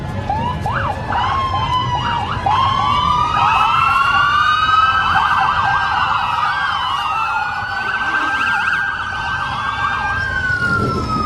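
Loud wailing sirens from several California Highway Patrol motorcycles in a Christmas parade overlap continuously, rising and falling close by, with engine rumble underneath.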